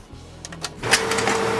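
A Canon PIXMA TS6550i printer starting a test pattern print: mechanical whirring and clicks build into a steady motor drone with a rising tone, heard close and alone.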